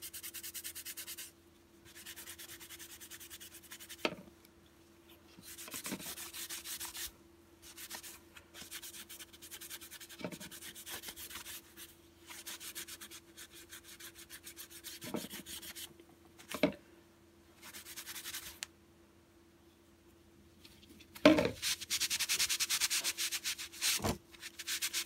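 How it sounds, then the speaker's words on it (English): Fine grit sandpaper scrubs a rusty knife blade in bursts of dry, rasping strokes, some short and some sustained, separated by pauses and occasional light knocks, close up and fairly quiet. "I'm going to use some fine grit sandpaper. Start cleaning this blade the rest of the way."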